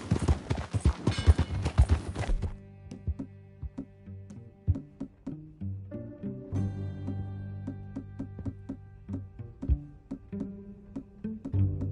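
A video game horse's hooves clip-clop quickly at first, then slow to scattered, unhurried steps over a soft musical backdrop.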